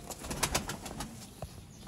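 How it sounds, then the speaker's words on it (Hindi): Pigeons of the Master Abdullah strain, pearl-eyed birds with green and red eyes, coo softly in a loft, a low murmuring burble with a few brief flutters, close and fairly quiet. "मास्टर अब्दुल्ला वाले दोस्तों सब्ज़ मोतियों वाले, लाल मोतियों वाले कबूतर"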